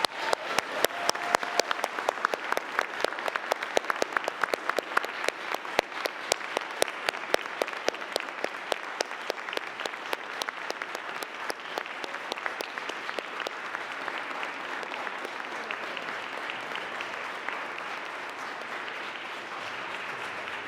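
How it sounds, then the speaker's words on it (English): A large audience gives a long round of applause at a celebration of second chances. The dense clapping is loud at first and eases slightly over about twenty seconds. "so let's give them all a huge round of applause."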